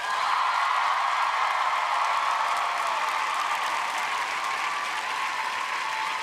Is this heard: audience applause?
yes